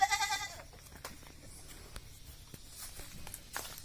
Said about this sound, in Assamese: আহক সৰ্বপ্ৰথম আমি ছাগলীকেইটা চাই লওঁ, এওঁৰ যিবিলাক ছাগলী আছে।